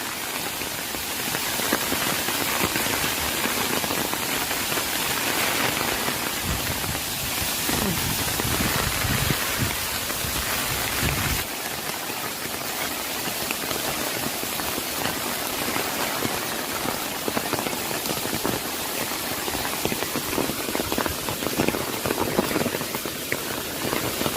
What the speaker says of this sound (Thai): ลงไปต่อไม่ได้นะคะ เพราะฝนตกแรงมากนะคะ